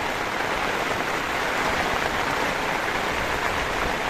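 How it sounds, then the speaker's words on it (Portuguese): Steady, gentle rain falling without thunder, a dense even patter on surfaces heard close and loud throughout, with no voices. "Chuvinha boa demais, abençoada. Sem trovão, sem relâmpago."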